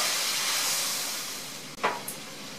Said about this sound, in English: really just want to heat the chicken and the Brussels sprouts back up and let the sauce thicken a little bit